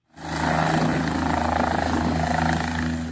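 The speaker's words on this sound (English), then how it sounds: "Video posted by Dauphin Clinic Pharmacy of a helicopter departing with some of its out-of-town prescriptions." A helicopter departs from Dauphin, Manitoba, carrying pharmacy prescriptions to flood-cut areas. Its rotor drone rises quickly and then holds loud and steady throughout, with no talking.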